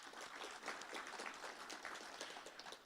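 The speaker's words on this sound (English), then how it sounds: "Please give them a round of applause." Sustained applause from a crowd, steady dense clapping throughout at moderate distance, no voices.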